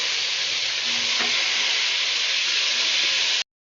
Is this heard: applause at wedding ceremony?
no